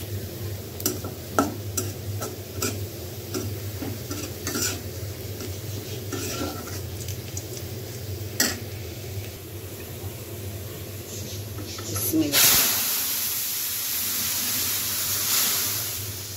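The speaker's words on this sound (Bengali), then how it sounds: "আর এখানে আমি ডালটা এখন বাগার দেওয়ার জন্য পেঁয়াজ রসুনটাকে লাল লাল করে নিব" Onion and garlic fry for dal tempering, first with quiet clinks and stirring taps over a low hum. Then a loud, steady sizzle rises for the last few seconds.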